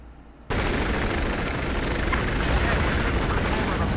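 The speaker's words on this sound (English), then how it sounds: "Oh, a helicopter." A helicopter in the Battlefield 4 video game comes in suddenly as a loud, dense, steady rotor and engine roar that holds close and constant to the end.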